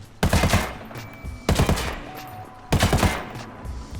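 Rifle firing three separate 3-round bursts in Ghost Recon Wildlands, each burst a quick cluster of sharp cracks followed by a short decaying tail, evenly spaced and fairly close.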